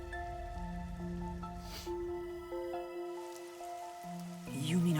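Rain in the Master Detective Archives: Raincode game, a soft, steady patter running under sustained tonal music notes, with no talking.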